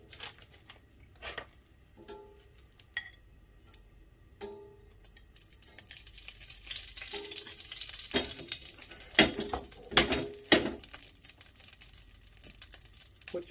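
Oil crackles and sizzles in a pan as a Vietnamese crab soup base gets started, quiet scattered pops at first, then a louder steady frying hiss with sharp bursts partway through, no talking.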